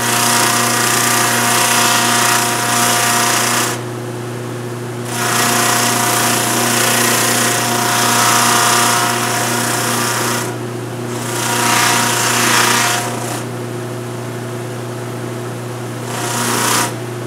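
Power sander smoothing small bear claw necklace pieces, a loud steady whine that runs in bursts and cuts out between passes, with no voices.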